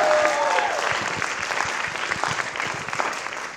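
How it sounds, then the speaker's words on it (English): A concert audience at an electronic music concert at the College of San Mateo gives a warm round of applause for Marcel, dense and steady clapping that tapers slightly, with a brief tonal note at the start. "Give another round of applause for Marcel"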